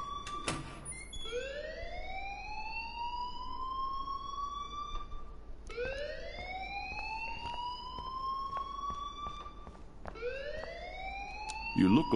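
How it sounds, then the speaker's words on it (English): An alarm blares in the video game Life Is Strange, a siren-like tone that sweeps upward and holds, repeating three times at steady intervals and staying loud from start to end, with faint voices partly under it. "please turn off that alarm since that's your job"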